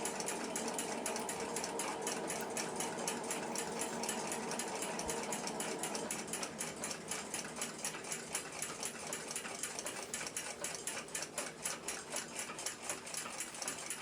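An 1880s Swiss pocket watch mainspring being let down slowly by its key, giving a close, steady, rapid buzzing stream of tiny ratcheting ticks that runs unbroken throughout with no voices.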